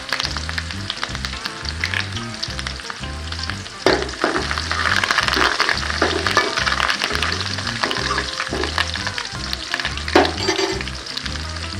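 Onion, garlic and curry leaves fry in hot oil for a kovakkai (tindora) kulambu, giving a dense, steady sizzle with occasional stirring scrapes under rhythmic background music.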